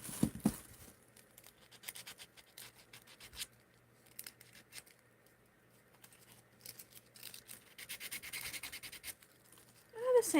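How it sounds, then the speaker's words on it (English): Sandpaper rubbing and scratching across a figure being remade, a soft dry patter of repeated strokes that grows busier toward the end, faint and close with quiet room noise between passes. "The sandpaper's kind of working."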